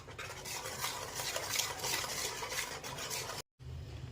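Semolina (rava) batter stirred briskly in a pot for oil-free rava papad, a steady scraping, swishing stir running close and continuous before a brief drop to silence near the end.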